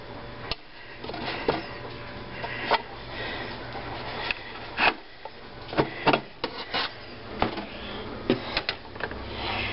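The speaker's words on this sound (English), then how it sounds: "Now I immediately take it out of the bread pan." Freshly baked low-carb beer bread is worked loose from a bread machine pan: irregular scraping, rubbing and knocking of the loaf against the metal tin, close up, in a quiet kitchen without talking.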